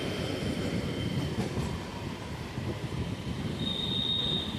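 Local train running toward Dum Dum station, heard from on board: a steady loud rumble of wheels on track with rhythmic clatter and a thin metallic squeal rising near the end.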